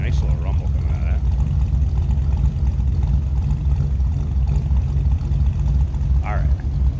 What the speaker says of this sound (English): Let's hear that 302. Nice little rumble coming out of that.